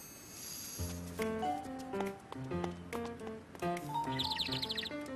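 A small bird chirps in a quick cluster of high tweets near the end, over a bright cartoon music score that plays throughout.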